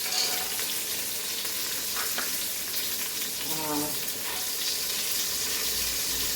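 Cashew nuts frying in hot oil in a pan for Goan coconut rice, a steady hiss with a brief stir or two, heard close and without talk.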